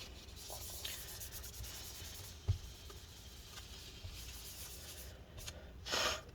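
Soft, steady rubbing as residue is wiped from inside a 13-inch Late 2013 MacBook Pro A1502 during a battery replacement, quiet and close with a few light scrapes and no talking.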